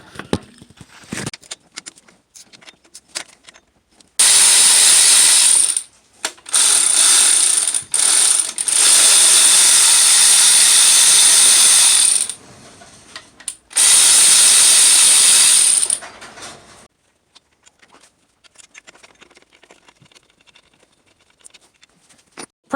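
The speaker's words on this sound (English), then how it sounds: "Pretty much we're going to go ahead and take off our bolts." Ratchet with a deep socket taking off 10 mm bolts on a 2008 Acura TSX during a water pump replacement, several loud bursts of fast clicking ratcheting separated by short pauses.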